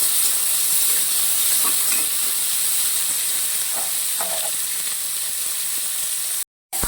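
Half a kilo of shallots and other ingredients sautéing in a pan, a loud continuous frying hiss with a few faint spoon scrapes, steady throughout until a brief cut near the end.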